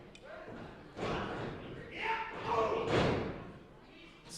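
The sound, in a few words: weapon strike in a wrestling match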